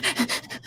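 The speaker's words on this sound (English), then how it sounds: "Like breathing crazy into my microphone" Several quick, heavy breaths hit a close microphone in a rapid rhythm of about six puffs, loud and airy, fading slightly toward the end.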